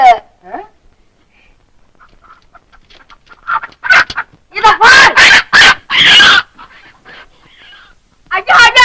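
Loud, harsh chicken squawks burst out in a rapid cluster, with agitated human shouting mixed in close by.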